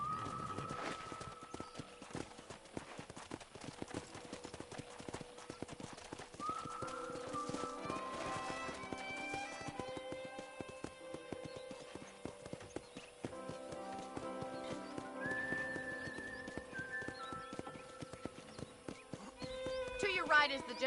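Horse hooves clip-clopping in a steady walking rhythm while riding around a ranch in the Red Dead Redemption video game, fairly quiet under a voice talking, with background music and an occasional whinny.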